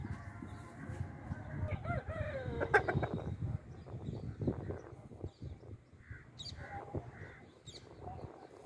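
Hens call among a flock of Indian Runner ducks: a rising squawk-like call near the start, then scattered clucks and short bird calls over a soft, shuffling background, moderately close.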